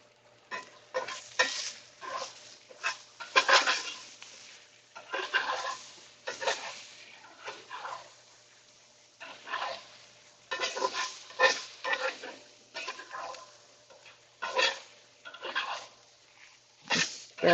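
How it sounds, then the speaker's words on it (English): Corned beef hash is stirred in a hot frying pan: a constant low sizzle is broken by repeated scraping, scooping strokes of a spatula at an irregular rhythm, close and fairly loud, with no talking. "Stirring up the corned beef hash, getting them mixed up really good"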